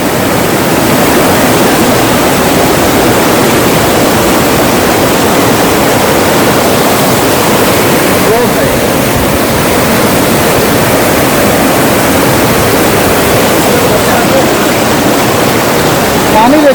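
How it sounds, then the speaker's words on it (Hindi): A glacier meltwater stream rushes over rocks on a mountain trail, a loud, continuous broadband roar of flowing water that stays steady and close throughout. "ग्लेशियर ऊपर से पिघल के आ रहा है"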